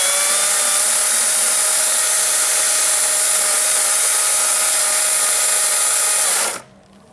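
A chainsaw cutting into a tree trunk during felling runs at a loud, steady high whine for about six seconds, then cuts off abruptly near the end.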